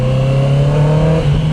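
Honda CB650R E-Clutch motorcycle engine holding a steady, loud rev with a strong low hum and overtones, running continuously and close by without any talk.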